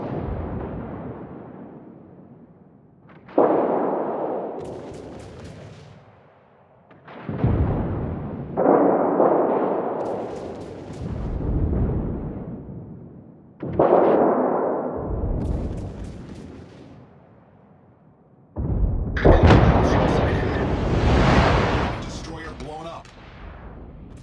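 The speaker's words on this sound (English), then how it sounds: "Concentrate fire on the enemy warship." Naval artillery from a Somers destroyer in a World of Warships ranked battle: heavy booming salvos every few seconds, each a loud, broad blast with a long rumbling tail, the last one densest and sharpest.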